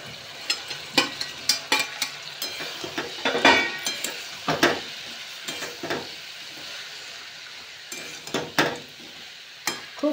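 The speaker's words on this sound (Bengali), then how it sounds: "সসটা ফুটেছে, এবার বেবি কর্নগুলো এতে দিয়ে দিচ্ছি।" Baby corn being stirred into bubbling chili sauce in a pan, with a spatula scraping and clinking against the metal in repeated short strokes over a steady sizzle, close up and without talk.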